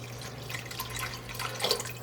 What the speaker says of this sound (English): Then we have another 4 cups of beef stock that we're going to pour in.